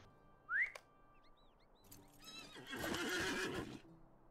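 A horse in the video game Lord of the Rings Online gives a sharp rising whinny, followed by soft game tones and then a stretch of hoof clip-clops, fairly faint overall.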